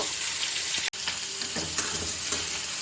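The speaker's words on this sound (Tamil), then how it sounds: "இதையும் போட்டு நம்ம ஃப்ரை பண்ணிடணும்." Cashews frying in a pan for palak paneer, a bright, dense sizzle with a few faint stirring scrapes and a brief dropout partway through.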